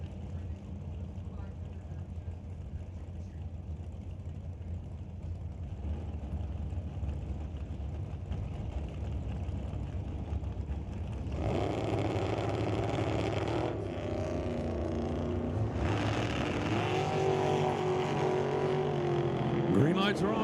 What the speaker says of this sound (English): Here comes Greg in the Dragster.